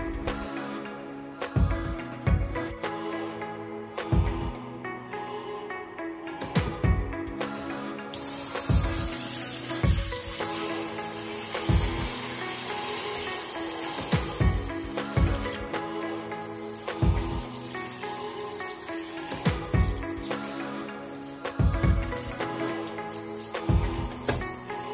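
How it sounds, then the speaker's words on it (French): Water poured onto a potted caladium tuber, a steady splashing and trickling stream with faint rhythmic knocks throughout, continuous and close, with no speech. "je viens l'arroser avec de l'eau"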